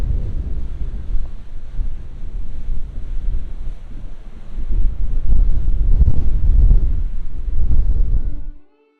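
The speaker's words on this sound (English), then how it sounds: "Wanted to give you guys an idea of how cold and windy it is out here." Strong, cold wind outdoors at Fort Churchill buffets the microphone with a loud, gusting rumble that swells midway and then cuts off abruptly at the end.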